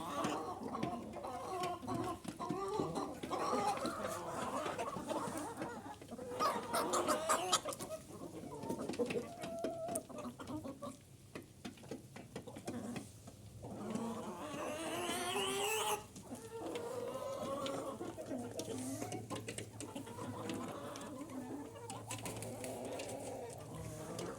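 Chickens cluck and murmur inside a henhouse during an evening round of the coop, with overlapping calls from several birds, close and fairly loud, and occasional louder squawks, while a person speaks now and then.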